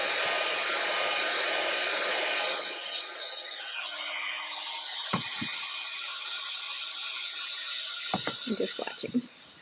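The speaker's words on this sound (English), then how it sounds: "I'm going to go ahead and heat emboss" A heat embossing tool blows hot air in a steady, loud whooshing hiss that drops in level partway through, with some faint clicks and handling sounds near the end during a craft session.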